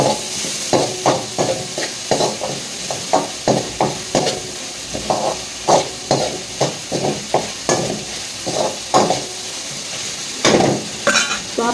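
A spatula strikes and scrapes in a pan, stir-frying crumbled tempered millet flatbread. The dense, regular clatter comes in quick bursts with a soft sizzle beneath, close up and steady, with no voices.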